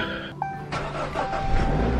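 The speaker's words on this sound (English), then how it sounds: "I gotta go turn my car on so it warms up" A car engine in freezing cold weather cranks and catches at close range, its starter whine giving way to a steady idle that builds slightly in the final moments.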